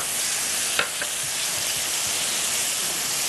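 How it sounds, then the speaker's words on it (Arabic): Onions and garlic sizzle and hiss steadily in a hot pan, with a soft scrape or two as they are stirred. "هنقلب البصل يدبل كده شويه وهننزل بالثوم تقليبه"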